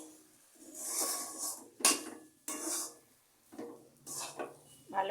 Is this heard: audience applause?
no